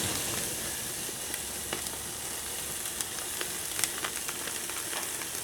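A London broil steak sears in a hot pan, giving off a loud, close, continuous sizzle with scattered pops and crackles and no voices over it.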